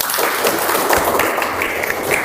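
A classroom group applauds after student presentations, a burst of scattered clapping from many hands, fairly close, sustained for a couple of seconds.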